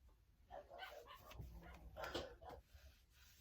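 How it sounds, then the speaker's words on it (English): Dogs barking indoors in a home, several short sharp barks scattered over a few seconds, faint and somewhat distant against a quiet room. "Sorry, my dogs are barking."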